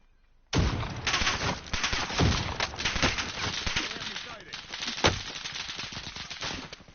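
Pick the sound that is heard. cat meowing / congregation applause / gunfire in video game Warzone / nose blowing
gunfire in video game Warzone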